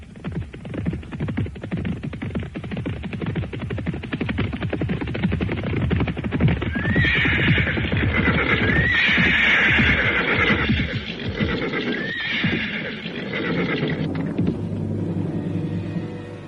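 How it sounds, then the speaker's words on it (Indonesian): Horses neigh and whinny several times over a dense, rumbling battle-like background in an audio drama, loud and continuous. "menyusul dengan membawa 2 ekor kuda yang mereka temukan, milik Kameswara dan Pinaka Swasti Ratu"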